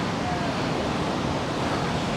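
Ocean surf at a beach in Da Nang, clearing after a typhoon, gives a steady broadband wash of waves with some wind rumble, continuous and fairly close throughout.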